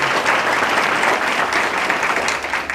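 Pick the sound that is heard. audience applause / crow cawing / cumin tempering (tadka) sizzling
audience applause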